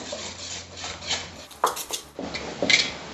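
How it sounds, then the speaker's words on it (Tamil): Maida flour being mixed into cake batter in a bowl, with rubbing, scraping strokes and a few sharper clinks of a utensil on the bowl, close and uneven over about three seconds. "இப்போ இதையும் சேர்த்து மிக்ஸ் பண்ணி கொடுங்க"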